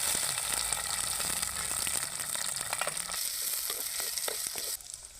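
Onions sizzle in hot oil in a tempering of mustard seeds, curry leaves and dried red chillies, a steady close frying hiss with occasional stirring scrapes, and the sound drops off near the end.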